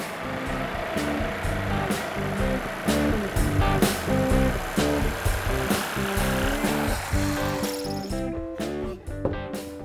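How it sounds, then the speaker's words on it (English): A jigsaw cuts through wood for an indoor plant stand, heard as a loud, steady buzzing with a repeating pulsing pattern that continues through most of the clip before dropping away near the end. "now we're going to use the jigsaw to cut it"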